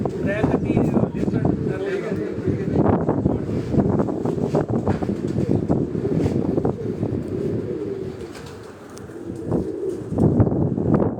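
Pigeons coo on a rooftop pigeon loft on Chak Beli Road, Rawat, soft repeated low coos close by amid wind noise, with someone talking over them.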